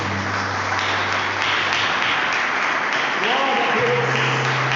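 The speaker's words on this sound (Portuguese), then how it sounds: "Vamos começar dando uma gloriosa salva de palmas para o Senhor" A church congregation applauds in praise, a steady wash of clapping mixed with voices and a sustained organ-like tone, dense and continuous throughout.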